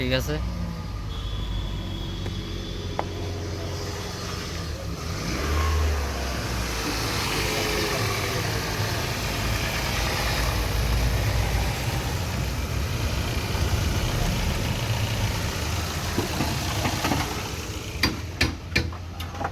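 A Toyota Axio car engine runs steadily on fuel as a low idling rumble with faint ticking throughout, while people talk over it and a few sharp clicks come near the end.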